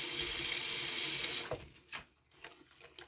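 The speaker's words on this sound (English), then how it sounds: "I'm adding a little bit more hot water." Hot water pours steadily from a tap into a sink, a loud hissing rush that stops abruptly, followed by a few small splashes and clunks.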